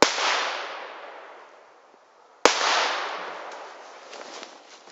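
Two firecrackers go off outdoors at a St. Stephen's Day celebration, each a sharp, loud bang followed by a long echoing decay, about two and a half seconds apart.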